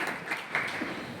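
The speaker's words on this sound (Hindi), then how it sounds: "इन सब के लिए एक बार जोरदार तालियां" Brief burst of audience clapping at an annual programme and report ceremony, a steady dense patter filling the hall for about a second at moderate distance.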